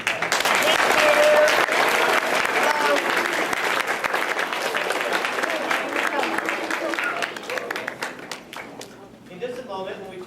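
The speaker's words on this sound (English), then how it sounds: "So please give yourselves a round of applause" Audience applause fills a hall after a children's elementary school play, loud and sustained with dense clapping and some cheering voices, easing slightly toward the end as a few voices come through.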